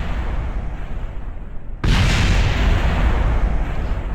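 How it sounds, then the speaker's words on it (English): A rocket blowing up in the game Kerbal Space Program: one abrupt, loud explosion that cuts in sharply and then holds as a dense, roaring rumble to the end, with no talking over it. "Satisfying explosion."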